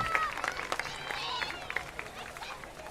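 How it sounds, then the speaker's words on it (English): A high school football crowd at a Covenant Christian vs Monrovia game cheers and chatters after a play, with scattered claps and shouts rising and falling over a steady murmur of many distant voices. "The crowd loved that one."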